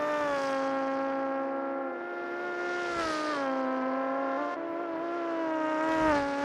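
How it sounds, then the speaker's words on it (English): Formula Three race cars in a racing video game scream past one after another, a sustained high-pitched engine whine with steady harmonics shifting in pitch as they pass, loud and continuous with no talk. "Have to love listening to these cars as they go through."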